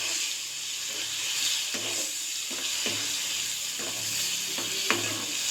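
Ground onion paste sizzles and fries steadily in a hot pan for an onion thokku, with scattered scraping stirs from a spoon running through the continuous close hiss.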